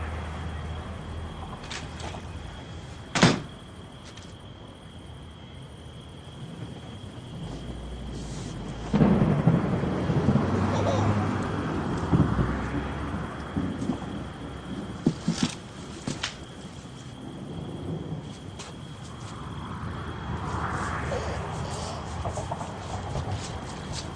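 Thunder rumbles beneath steady rain in an Orthodox parable audio drama, with a sharp crack near the start and a longer rolling swell partway through; no voices.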